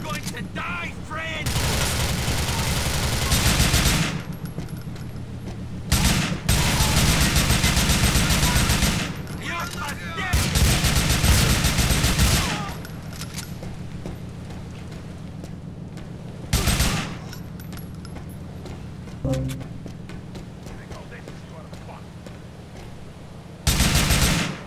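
Bursts of automatic gunfire in Grand Theft Auto IV, loud repeated volleys lasting several seconds each with short gaps, mixed with game noise and some talk.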